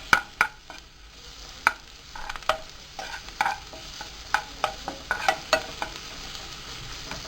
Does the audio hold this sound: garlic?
yes